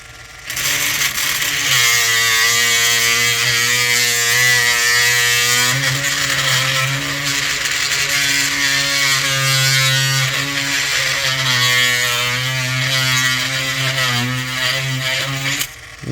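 Power drill grinding out a broken rivet head, a steady loud whining motor hum held for the whole stretch with slight pitch shifts as pressure changes, close and continuous.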